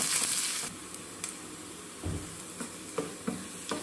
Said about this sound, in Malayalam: നമുക്ക് വറ്റൽമുളകും കരിയാപ്പിലയും കൂടെ ഇട്ട് കൊടുക്കാം.